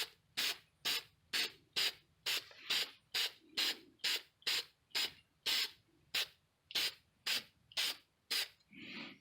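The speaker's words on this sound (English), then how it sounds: "Just a few thin sprays will give it a nice, even, balanced coat." Clear acrylic gloss coat is sprayed from an aerosol can in a long even series of short hissing bursts, roughly two per second, close and crisp with brief silences between each puff.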